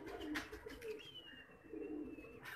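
Pigeons kept by a fancier, with soft low cooing and a faint bird call close by, heard alone with no talk.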